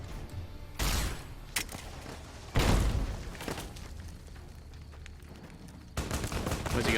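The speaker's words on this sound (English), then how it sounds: "Who's shooting me?" Gunfire in Fallout: New Vegas: several loud, separate shots and bursts that stand out from a low game background, with a short rattle of fire near the start and heavier blasts later.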